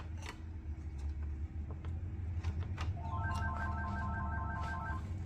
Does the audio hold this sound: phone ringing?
yes